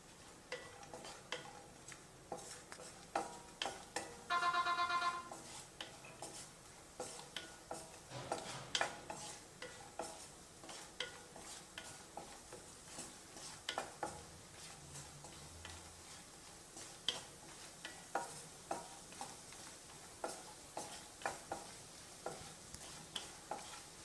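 Cashew nuts fry in a pan for sweet rice while a spoon stirs them, giving a soft, steady sizzle broken by frequent light ticks and scrapes of the utensil.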